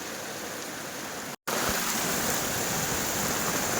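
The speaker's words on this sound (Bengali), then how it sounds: "কি পরিমাণে বৃষ্টি, পুরো জল সাদা হয়ে গেছে একদম" Heavy monsoon rain pours down steadily over a flooded village courtyard, a dense continuous hiss with a brief dropout near the start, no voices.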